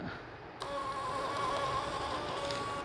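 A small mobile printer prints a bill with a steady, faint mechanical whir that starts abruptly and runs evenly for a couple of seconds.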